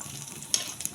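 Garlic frying in hot oil in a pan while being stirred, cooked for pork bistek; a soft, steady sizzle with a couple of sharp scraping clicks from the spatula near the end, fairly quiet and close.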